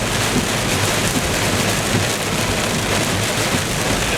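Heavy rain pours in a dense, unbroken roar during a tornado-warned thunderstorm in Streator, Illinois, loud and close with no pauses and no talking.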